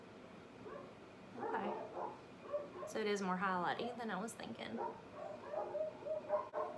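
Dogs barking and whimpering in a room, a burst of yips and whines rising over a woman's speech, with quieter whimpers around it.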